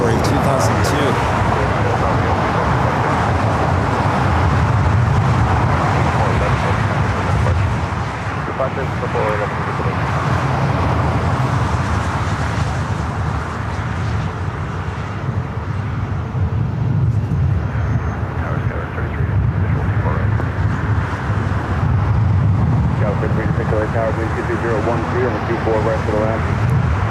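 A 23-year-old Boeing 757-300, originally delivered to Northwest Airlines, lines up on the runway at LAX, its jet engines making a steady, loud roar throughout, with traffic noise mixed in and a voice talking over it.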